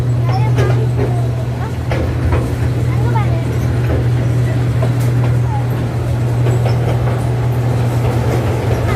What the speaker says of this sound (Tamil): ட்ரெயின் வந்து ஸ்டாப் ஆயிடுச்சு